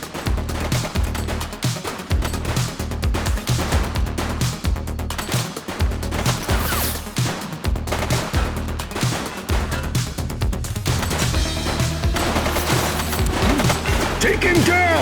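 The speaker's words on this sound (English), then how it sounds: "She's shooting!" Heavy gunfire from a suspect in a police shootout in The Precinct: dense volleys of shots over several seconds, loud and close, mixed with sirens and game noise.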